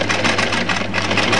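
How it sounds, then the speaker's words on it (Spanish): A sewing machine fitted with a gathering foot runs a long stitch (length 4) through fabric to make a ruffle, giving a steady, close mechanical whir with fast rhythmic pulsing and a low hum underneath, continuous throughout with no talking. "Y ahora sí, empiezo a coser"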